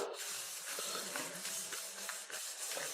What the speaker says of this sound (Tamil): அடுத்து கருவேப்பிலை. நம்ம கையில் ஒரு கைப்பிடி அளவுக்கு கருவேப்பிலை. இதையும் நல்லா வறுத்துக்கலாம்.